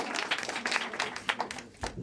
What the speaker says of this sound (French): je pense qu'on peut applaudir les volontaires qui ont osé venir ici